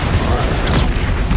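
Magic blasting spells Bombarda and Confringo bursting in the wizarding game Hogwarts Legacy, a loud rumbling explosive roar with crackling bursts that fills the whole short moment.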